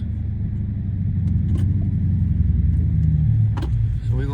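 A Dodge 6.4 SRT8 engine idles with a steady, loud, close rumble and a faint repetitive ticking that may point to failing lifters or an exhaust leak, with no talking over it.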